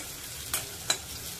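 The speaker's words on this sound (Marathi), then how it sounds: "कांद्याला गुलाबी रंग येईल इतका त्याला परतायचा आहे" Chopped onion sizzles steadily in a hot pan while a spoon stirs it twice with short scraping sweeps.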